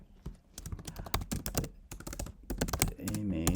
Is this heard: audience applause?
no